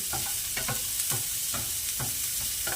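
Onions cooking slowly in a pan over a low flame, giving a steady soft sizzle with a few scattered stirring scrapes. The sound is continuous and moderately quiet, with no voices.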